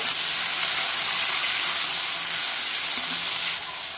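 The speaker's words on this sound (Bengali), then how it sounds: "টমেটো দিয়ে দেবো, এটাকে একটু ভেজে নেব" Chopped tomatoes hit hot oil with black cumin and green chilli, giving a loud, steady sizzle and hiss that runs unbroken from start to finish.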